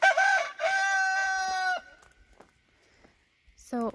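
A rooster crows loudly close by, followed by scattered soft clucks and a brief squawk from nearby chickens.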